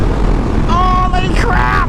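Triumph Rocket 3R 2500 cc motorcycle accelerating hard, its engine note climbing in two rising sweeps over a steady rush of wind noise.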